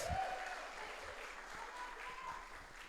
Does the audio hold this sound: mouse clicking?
no